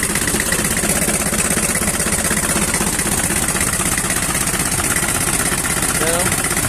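An old-model Mitsubishi 4D30 diesel engine idles steadily and close by with a quiet, even low chug that continues without a break throughout.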